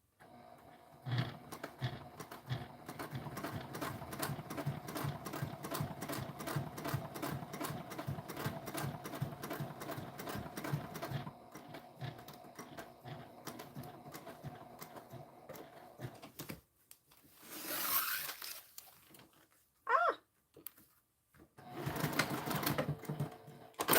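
A sewing machine stitches steadily for about sixteen seconds with a fast, even mechanical rhythm, then gives a few short, separate bursts after a pause.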